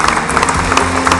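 An audience at a municipal New Year's greetings ceremony in Aulnay-sous-Bois applauds the new mayor of Drancy, a steady, loud wash of many hands clapping together without pause.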